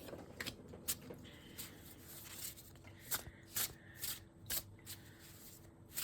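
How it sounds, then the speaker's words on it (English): Oracle cards being shuffled by hand, soft papery riffles and taps in short irregular bursts, quiet and close in an otherwise still room. "Remember, put your energy in while I'm shuffling and putting my energy in."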